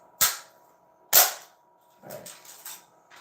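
A video game gun fires two sharp, loud cracks about a second apart, each ringing out briefly. A pair of quieter, rougher pops follow right after.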